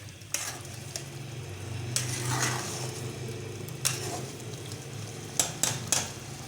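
Chicken pieces sautéing in a pot over normal heat, a steady sizzle carrying throughout with several sharp clinks and scrapes of a spoon stirring against the metal, no voices.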